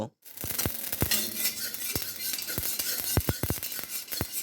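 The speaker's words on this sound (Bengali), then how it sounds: "এই শুকনো কড়াইতে আমরা সরিষাগুলো ভেজে নেব" Mustard seeds dry-roasting in a dry wok, with repeated sharp clinks and scrapes of a spatula against the metal over a steady hiss, close and fairly quiet, no voices.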